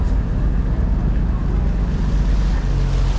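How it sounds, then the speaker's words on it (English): A heavy ferry crosses open sea to Nusa Penida with a steady, loud roar of wind, waves and churning water, constant and close for the whole stretch. "we've got a pretty heavy ferry here"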